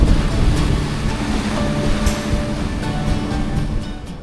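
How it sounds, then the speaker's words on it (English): Waves crash against a small rock off a quiet white-sand beach near Lunenburg, Nova Scotia, producing a steady, loud wash of surf that rolls on without pause and with no voices. "Waves crashing on a little rock out there."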